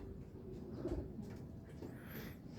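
A racing pigeon at a derby loft in Aparri, Cagayan gives a soft, low cooing that runs faintly through steady background noise, with no talking.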